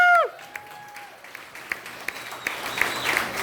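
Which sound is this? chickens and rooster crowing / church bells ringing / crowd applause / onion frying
crowd applause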